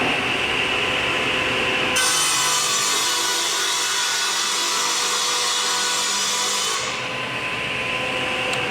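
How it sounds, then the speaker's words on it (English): A power saw rips through a sheet of marine plywood for a boat transom repair, running loud and steady with a harsher, brighter tone while the blade is in the cut. "First, we need to cut our wood."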